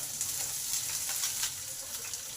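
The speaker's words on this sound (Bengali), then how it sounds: "এক সাইডে কিছুটা মটরশুঁটি দিয়ে দিলাম। এগুলো একটু ভাজা হোক আর সেদ্ধ হোক।" Green peas sizzling in hot oil in a pan while pumpkin and potato cook in a Bengali home kitchen, giving a steady close crackling hiss with small pops throughout.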